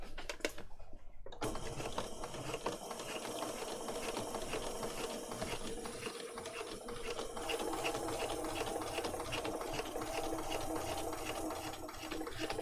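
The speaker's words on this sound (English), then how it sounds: "I'm just going to spread it out, sort of flatten it out and sew over that" A sewing machine stitches sari silk onto a card junk journal cover, running in a steady rapid mechanical whir from just after the start to the end, with no talking.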